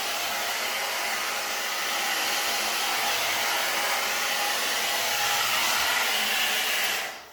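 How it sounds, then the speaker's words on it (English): A blow dry brush roars steadily at close range as it dries hair, a loud continuous airy whoosh that holds for several seconds with no talking, then cuts off at the end. "I am going to blow dry the majority of my hair"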